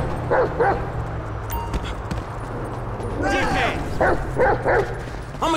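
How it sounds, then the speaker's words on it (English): A dog barks in repeated short bursts in Grand Theft Auto 5 gameplay, mixed with hoof-like clopping and a steady game background hum. "That's a good dog."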